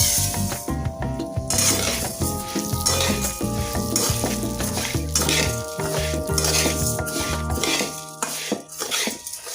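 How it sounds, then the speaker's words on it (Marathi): Khapli wheat being roasted in leftover ghee in a pan, a loud close sizzle with constant scraping and metallic clatter of a utensil stirring against the pan, no voices. "आता हे काय करू आपण भाजून घेऊया या राहिलेल्या तुपामध्ये."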